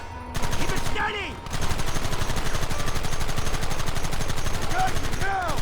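Rapid sustained gunfire in the Red Dead Redemption Remastered video game, loud and close, with a brief pause early on and shouting voices over the shooting.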